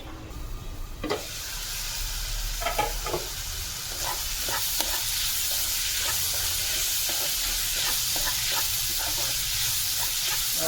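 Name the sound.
vegetables cooking on steam in a covered pan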